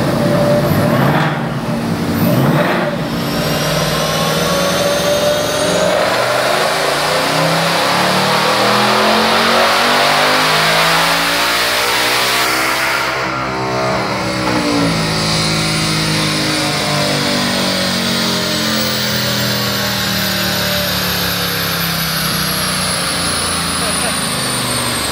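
A supercharged 2024 Ford Mustang Dark Horse with a Whipple blower and stock exhaust revs hard on a chassis dyno, the engine climbing through long loud pulls with rising and falling pitch, close and continuous throughout.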